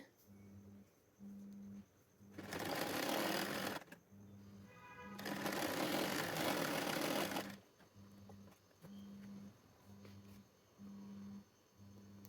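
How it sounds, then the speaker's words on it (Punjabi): A sewing machine stitches a lace suit in two long, loud bursts of whirring. Between the bursts come short, regular pulses of the machine running slowly, all nearby and with no talking. "ਦੋਨੋਂ ਪਾਸੇ ਆਪਾਂ ਸਲਾਈ ਲਗਾਵਾਂਗੇ"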